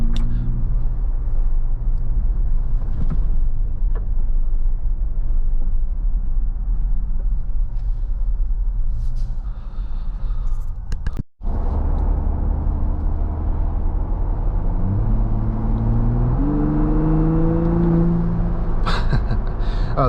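A 2024 Ford Bronco Raptor driving on gravel, with a constant heavy low rumble of tyres and drivetrain, a brief dropout midway, then the engine note rising and shifting as it accelerates.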